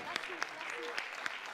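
Audience in a theatre hall applauding Anaït, a faint, distant wash of steady clapping with a few sharper claps standing out, under scattered voices calling out.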